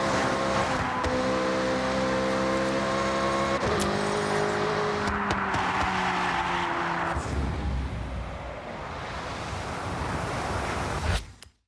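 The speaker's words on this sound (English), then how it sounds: "Get ready to blast those engines." Racing car engines in a video game, a steady loud roar with shifting pitch and tire squeal, holding for several seconds before a rushing, wash-like passage and an abrupt cutoff; no talk.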